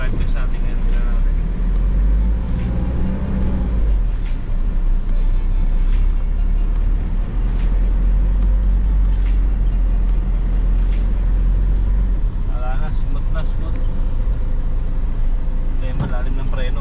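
A van with a worn release bearing rumbles along the road during a test drive, its engine droning low and steady with road noise, while people talk inside the cabin.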